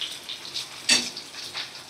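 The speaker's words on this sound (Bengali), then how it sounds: "মাছগুলো 2 পিঠ সুন্দর করে ভাজা হয়ে গেছে" Fish frying in a pan for a Bengali fish curry, a soft steady sizzle with a brief louder crackle burst partway through, fairly quiet and close.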